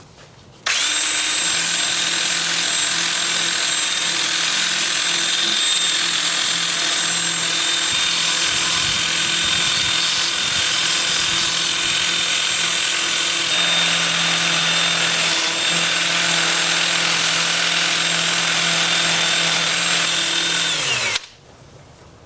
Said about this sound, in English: with the lathe spinning in reverse at about 380